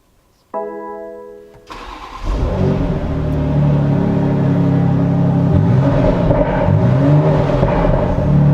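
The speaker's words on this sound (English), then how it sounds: "I suggest we fire the engine." A 2019 BMW X3 M / X4 M Competition engine cranks and catches after a short chime, then settles into a loud, steady rumble with a few throttle blips, close by with no talk.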